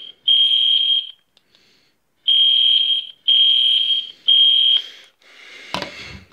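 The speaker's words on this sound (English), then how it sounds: "the fire alarm is going off." Loud electronic fire alarm in a school, pulled as a prank, blaring in long repeated tones with short pauses, followed by a burst of noisy clatter at the end.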